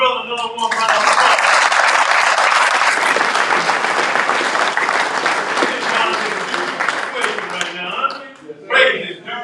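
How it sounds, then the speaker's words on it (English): A large audience at a memorial service breaks into loud, sustained applause that holds for several seconds, then tapers off as a voice speaks at the end. "Let's give my brother another one round of applause."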